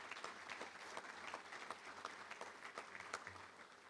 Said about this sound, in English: Let's give a round of applause for all of our great sponsors.